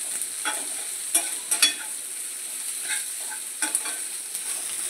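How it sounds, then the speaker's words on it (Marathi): Chopped onion sizzles and fries in a pan while being stirred, a steady hiss broken by a few sharp scraping stir strokes, close and clear with no talking. "आपला कांदा आता गोल्डन कलरवर येईपर्यंत आपण भाजून घेणार आहोत चांगला"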